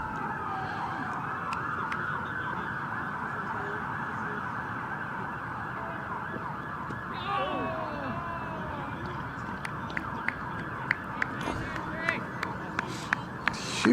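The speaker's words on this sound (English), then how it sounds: "That is a lot of sirens." Several emergency sirens wail together in the distance, a steady overlapping drone behind a cricket match broadcast, with a commentator talking over them.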